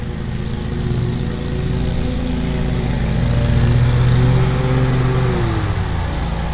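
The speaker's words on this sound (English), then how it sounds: "People are out mowing already." Lawn mowers run outside in a suburban subdivision the day after a hurricane, a steady droning engine hum that swells slightly and then eases, continuous and at moderate distance.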